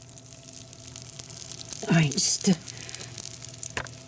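Gravy pours into a hot Ninja Foodi pot with a brief burst of sizzling and splashing, two quick surges close up, while a person speaks briefly.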